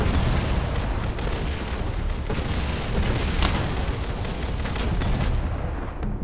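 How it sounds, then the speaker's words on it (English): Intense battle in the game Fallout: The Frontier, with continuous loud gunfire, laser shots and booming blasts layered thickly over each other and cutting off abruptly at the end. "Lots of gunfire, lasers, and glory."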